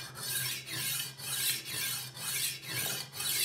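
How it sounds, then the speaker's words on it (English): Horl knife sharpener's diamond disc grinding a knife edge, a harsh rasping scrape repeated in even back-and-forth strokes, about six passes, close and loud. "you will grind this until a slight burr is formed on one side of the knife"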